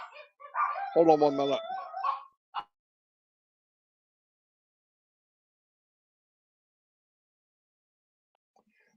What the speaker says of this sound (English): The barking at leaves falling down or something.